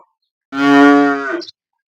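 A single long, deep moo from a Holstein Friesian cow, close and loud, lasting about a second before trailing off.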